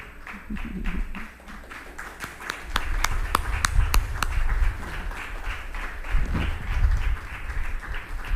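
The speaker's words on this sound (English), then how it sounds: "So I want you to give our sponsors a huge round of applause" Clapping from an awards-ceremony audience applauding sponsors, starting sparse with a few sharp individual claps and thickening into steady, fairly close applause that carries on to the end.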